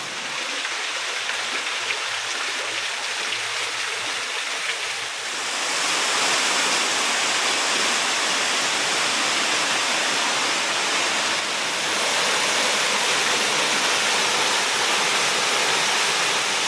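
Strong rushing water from a rain-swollen stream or waterfall near Coffs Harbour, a steady broadband roar that grows louder and fuller after a few seconds and continues without a break.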